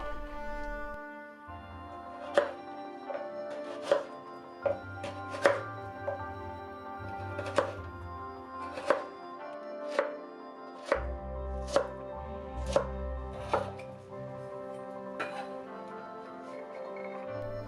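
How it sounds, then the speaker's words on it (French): A knife chops a carrot into small cubes on a board, with about a dozen crisp, evenly spaced cuts close by and clear, and no talking. "Coupez aussi la carotte en petits cubes."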